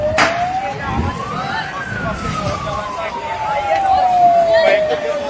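A loud fire engine siren wails up and then slowly falls in pitch, sounding near, at a scrapyard fire in Bhadhor, Punjab, with people talking underneath.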